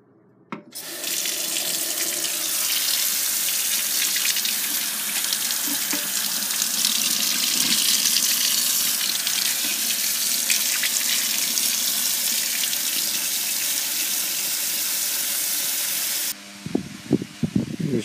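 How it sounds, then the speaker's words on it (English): A kitchen tap runs steadily into a sink while the grill of a Vornado 5303 fan is washed, a loud continuous hiss of water that stops abruptly near the end, followed by a few handling clunks. "now all I have left is the grill, so let me put it in the sink"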